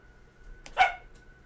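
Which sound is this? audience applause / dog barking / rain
dog barking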